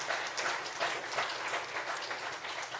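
Church congregation applauding to welcome a new member, a dense, steady burst of clapping from many hands filling the room, moderately loud and continuous.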